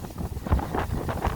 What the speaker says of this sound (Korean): 아, 진짜 대단한 바람입니다.